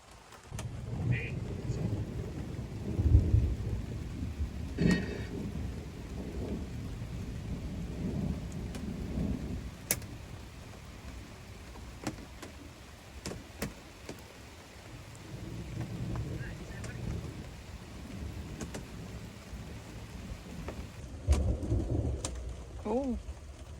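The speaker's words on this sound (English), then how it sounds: "I'm hoping if I just keep filming, we'll hear thunder." Thunder rumbles low and long over steady rain falling on a surface during a thunderstorm, with a few nearby drips and taps, a faint voice briefly in the background.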